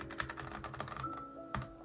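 Close typing on a custom mechanical keyboard partly fitted with stock, unlubed Gateron Red switches, a quick run of clacky keystrokes, then a pause and a single sharp key hit, alone and fairly quiet.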